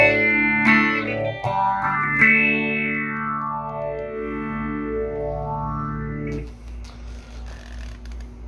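Electric guitar played through a modulation pedal, phaser or chorus, a few strummed chords ringing out with a wide sweeping whoosh moving up and down, then a quieter shimmering tail.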